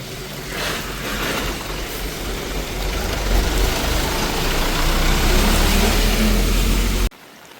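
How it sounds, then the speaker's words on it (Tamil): A bus drives past close behind on a road in Jaffna after heavy rain, its loud engine and tyre roar swelling and holding before cutting off abruptly at the end. "எனக்கு பின்னுக்கு ஒரு பேருந்து ஒன்று வருது"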